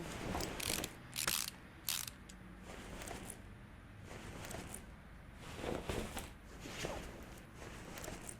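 Car parts, including a power steering pump and pulleys, go back onto a Viper in Car Mechanic Simulator, with repeated ratcheting clicks and mechanical clunks coming in short bursts over a quiet background.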